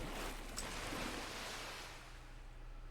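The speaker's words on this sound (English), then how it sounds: "hearing the water splashing long after I've stopped moving" Continuous rushing water sloshes and splashes in the backrooms-style game Pools, a broad steady wash with a low hum beneath that eases slightly toward the end.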